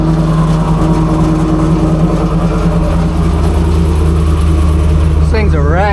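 Fully built, big-cammed Pontiac WS6 V8 cold starting after sitting for months, a loud, choppy lumpy idle close by with rough pulsing and a rising rev near the end.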